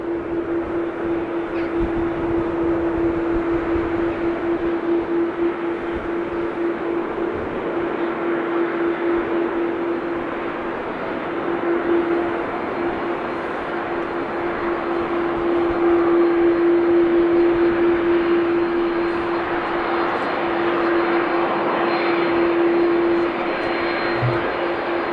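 A KLM Airbus A330 jet at Schiphol Airport roars steadily and loudly for the whole stretch, a sustained engine drone with a constant whining tone and no talk over it.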